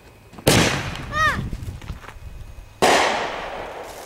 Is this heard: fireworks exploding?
yes